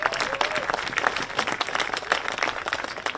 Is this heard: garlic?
no